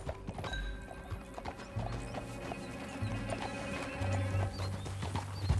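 A horse's hooves clip-clop at a steady run through Red Dead Redemption 2, with a whinny rising over the rhythmic beats, moderately loud and close without talk.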